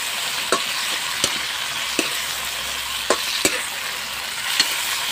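String beans frying in a pan, a loud continuous sizzle close by, punctuated by several sharp scrapes and taps of a utensil as they are stirred.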